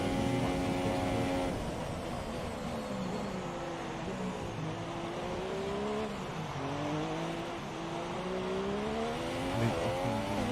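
Formula 1 car engine screaming through the revs in an F1 racing game, loud and continuous, the pitch climbing and dropping through gear changes and braking, with a faint tire squeal and no talk over it.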